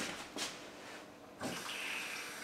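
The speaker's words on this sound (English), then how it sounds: "I'm gonna fill two of these up with water." Two cups being filled with water for cooking rice: a soft, steady stream of running water pours into the cups, with a brief splash at the start and a fuller flow partway through, faint and close.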